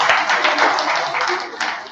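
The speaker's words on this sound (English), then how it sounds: "A round of applause for them" An audience applauds a team with dense, steady clapping for about two seconds, close and loud, with voices mixed in.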